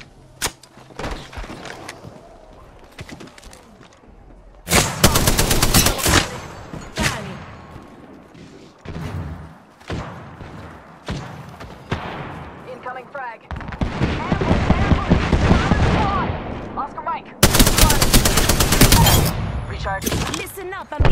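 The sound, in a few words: gunfire in the video game Apex Legends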